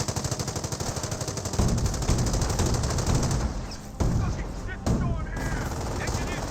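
Rapid .30 cal machine gun bursts in the Company of Heroes World War II strategy game, sharp repeated rattling fire layered with other battle noise and explosions, loud and continuous throughout.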